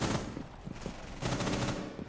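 Rapid gunfire rattles through a short Rainbow Six Siege fight as a player runs and pre-fires, two dense bursts of shots close together with a brief dip between them.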